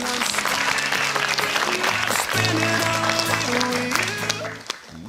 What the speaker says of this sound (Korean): 탈락한 원주 대성고에게 위로의 박수 부탁드립니다.